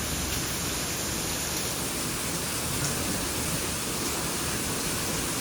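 Heavy monsoon rain falls in Anjar, a dense, uniform, close wash of noise with a faint high whine early on and no talking.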